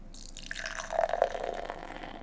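Beer poured slowly from a tall can into a glass, a short splashing, gurgling stream that swells in the middle and then settles into fizzing, heard up close with no talking.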